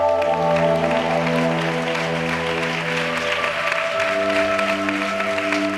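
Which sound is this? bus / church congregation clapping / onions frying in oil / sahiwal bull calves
church congregation clapping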